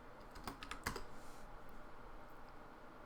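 A command tapped out on a computer keyboard: a handful of quick, faint key clicks clustered in the first second, then quiet room tone.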